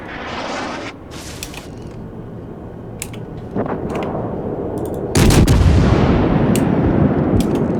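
Warship guns fire in World of Warships aboard the cruiser Mogami, several sharp booming salvos with mechanical clanks between, the heaviest blast near the end followed by a long rumbling decay.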